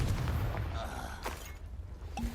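A Confringo fire spell bursts in Hogwarts Legacy, a short booming blast with crackling debris, followed by a second quick impact, while a voice talks briefly in the background.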